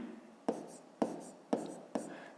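Four quiet, evenly spaced scratches of a pen writing on paper during a fifth-grade maths exercise, each stroke a short soft rasp, close and faint.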